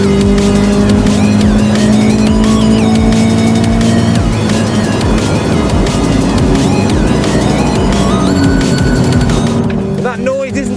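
Subaru BRZ sports car revving hard on a race track, the engine note climbing toward 7,500 RPM and staying loud and continuous throughout, with a voice talking over it.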